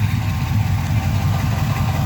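A Ford Panther-platform car idles through fresh dual exhaust, a loud, steady low rumble with a slight even pulse, close up and uninterrupted.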